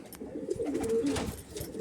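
Soft pigeon cooing from closed-tail birds at a Howrah pigeon market, a short steady burst of murmuring calls close by with no voices.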